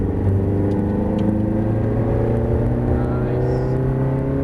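A Ferrari engine holds a steady loud drone with strong harmonics throughout, easing under braking and then pulling back up as it powers out of a corner, continuous and close.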